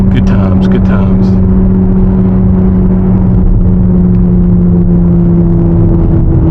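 A 2025 Corvette Z06 being driven, its engine a loud, steady rumble and drone heard from inside the cabin, with a few brief clicks near the start.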